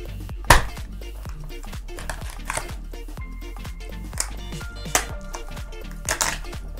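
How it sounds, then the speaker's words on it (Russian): A rabbit carcass being chopped into portions with a knife on a cutting board in a kitchen makes a series of sharp, close thuds and knocks at an uneven pace, with a louder strike near the start. "Нарезаем кролика сразу порционно."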